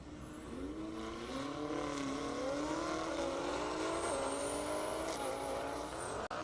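A BMW M8 Competition on a half-mile airport drag strip, its engine a sustained distant roar that climbs steadily in pitch through the gears, heard faintly and at length without talk.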